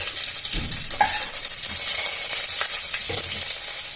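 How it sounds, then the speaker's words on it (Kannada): Curry leaves and cumin seeds crackle and sizzle in hot oil for a pongal tempering, a dense continuous spitting hiss with a few sharper pops and stirring scrapes, close and loud. "ಈಗ ಕರಿಬೇವು ಹಾಕ್ತಾ ಇದ್ದೀನಿ ನೆಕ್ಸ್ಟ್ ಜೀರಿಗೆ"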